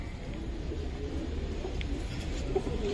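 Giribaz and coloured pigeons in a loft collection coo softly, with a few gentle warbling coos rising over a low, constant background hum.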